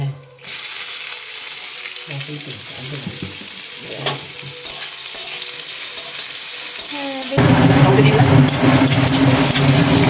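Sliced onion tossed into potatoes already frying in hot oil for a mutton curry, a steady sizzle that surges loudly near the end as the onion hits the pan, close and continuous.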